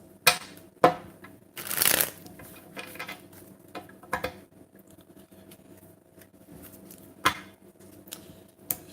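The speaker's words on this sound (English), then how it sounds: "And one more shuffle." A deck of tarot cards handled during a reading, giving scattered sharp taps and clicks with one longer riffle of shuffling, close and quiet, spaced irregularly with lighter rustling between.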